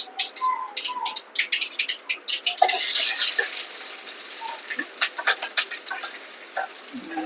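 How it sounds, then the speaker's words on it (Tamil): Chopped onions hit hot oil with crackling mustard seeds for home-style egg fried rice, giving a close sizzling hiss dotted with sharp pops and spatters that swell into a louder burst partway through. "வெங்காயம் போட்டு கொஞ்சம் வதக்குங்க"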